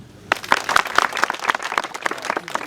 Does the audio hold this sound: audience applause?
yes